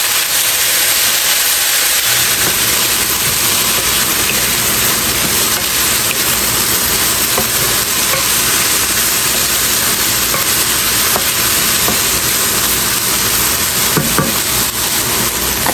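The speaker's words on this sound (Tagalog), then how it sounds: "At maglagay din tayo ng kaunti na soy sauce." Hamburger sizzling and frying in a pan as less-sodium soy sauce is added, a loud, steady hiss with a sharp rise in spatter after the first couple of seconds and occasional crackles throughout.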